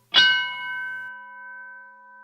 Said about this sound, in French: Juste des coups de cloche dans le silence.